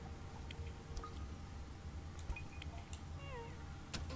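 A cat in the video game D4: Dark Dreams Don't Die gives a few short, faint meows over low background game ambience, with light ticks scattered around.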